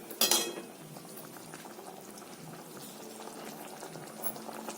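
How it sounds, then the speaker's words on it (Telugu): A pot of tamarind stew with taro root and onions bubbles at a steady, gentle boil, with a brief clink of utensil at the start and a soft, continuous simmer afterward. "ఇదిగోండి పులుసులో అది మనకి ఉడుకుతుంది చూసారా, చామదుంపలు ఉల్లిపాయలు అన్నీ కలిపి చక్కగా ఉడుకుతున్నాయి"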